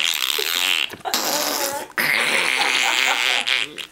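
A young girl blows a wet, buzzing raspberry with her lips, imitating a fart in a few long sputtering bursts broken by short pauses, close and loud.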